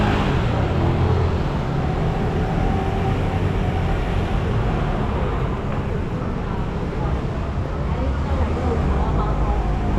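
Cars circle a roundabout at Rotunda de Carlos da Maia in Macau, making a steady, loud rumble of passing traffic while a person talks.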